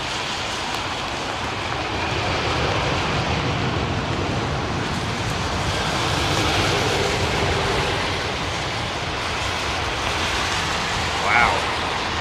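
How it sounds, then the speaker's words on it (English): A Virgin Atlantic airliner rolls out after landing at Mumbai, its thrust reversers producing a steady, dense roar that swells slightly midway and holds for the whole stretch. "hardly even using the reversers there. I don't know why I even bothered deploying them."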